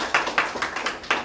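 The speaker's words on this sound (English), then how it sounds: "the clap for you as well" A short burst of clapping at a political party gathering, about six sharp, evenly spaced claps in just over a second, close and fairly loud with no talk.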